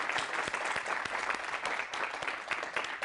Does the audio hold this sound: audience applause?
yes